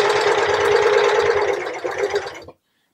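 A serger overlocking around fabric edges runs as a fast, steady mechanical whir for about two and a half seconds, then stops abruptly into silence.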